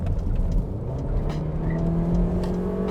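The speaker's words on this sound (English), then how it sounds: "Put the car into its paces" A 2008 Toyota Corolla Altis 1.6 VVT-i accelerates on the road, its engine whirring steadily with a rising tone from inside the cabin, moderately loud and with no talking.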